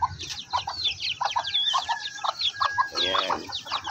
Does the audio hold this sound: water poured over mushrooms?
no